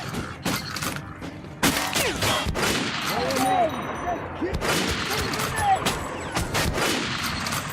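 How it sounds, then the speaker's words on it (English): Gunfire and a grenade explosion in Metro: Last Light's Red Square level: sharp, irregular shots and booming blasts at close range, with creaking mechanical noises and some voices mixed in. "Oh, that's a grenade."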